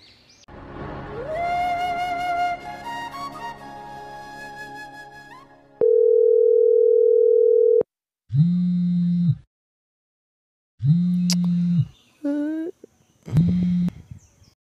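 A mobile phone call rings out unanswered: a long steady electronic tone followed by a series of repeated beeping tones with short silences between them, clear and close, with no talk.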